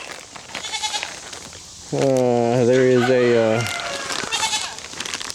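A goat on a homestead lets out one loud, close, wavering bleat lasting a couple of seconds, with someone talking before and after it and rooster-like fowl sounds faint in the background.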